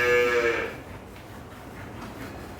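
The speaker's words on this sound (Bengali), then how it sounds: "আমাদের পাশে আরো একটি বাচ্চা আছে, এটি ষাঁড় বাচ্চা।" A bull calf on a dairy farm gives a loud, drawn-out moo at the start, which fades into quiet barn background with no talking.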